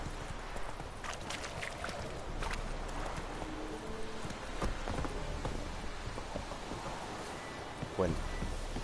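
A horse's hooves clip-clop in a steady walking rhythm while riding through The Witcher video game, moderately close under ambient game sound, with someone talking over it at times.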